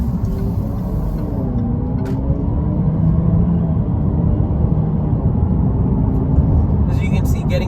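A 2017 Jaguar XE 35t R-Sport accelerates toward highway speed, its engine a loud, steady low rumble with rising tonal whine and constant road noise from inside the cabin.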